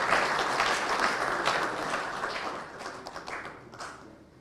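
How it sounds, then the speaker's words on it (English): A memorial lecture audience gives panelists a hearty round of applause, full and close at first, then gradually thinning toward the end. "Let's give them a better round of applause."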